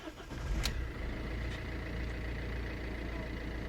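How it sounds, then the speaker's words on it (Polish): A cold Fiat Bravo 1.6 Multijet diesel engine cranks briefly after its glow plugs are preheated, catches, and settles into a steady, even idle that continues to the end. "Podgrzewamy świeczki i palimy."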